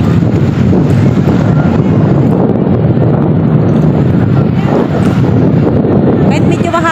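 Strong wind at a beach in San Juan, Batangas buffets the microphone continuously, a loud, steady roar with surf-like wash underneath and no clear pauses.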